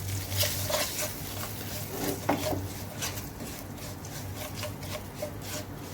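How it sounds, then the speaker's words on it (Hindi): Chickpeas coated in spices are stirred and roasted in a pan, with a spoon scraping and rubbing repeatedly against the metal over a soft, continuous sizzle, close up and without talk. "इसको मिक्स कर लूँगी, भून लूँगी इनको मैं अच्छी तरह से।"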